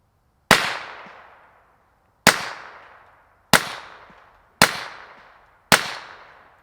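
Five suppressed .22 gunshots from a Sig 322 pistol fitted with a Hansen Brothers Mod F4 suppressor, each a sharp, loud crack with a quick fading tail, spaced about a second apart, with no talking.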